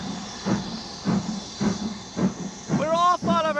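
The Yellow Mail steam locomotive pulls away in a 1947 radio drama, with rhythmic chuffing hisses building in a steady beat and a whistle-like tonal sweep near the end, heard under a narrator's voice.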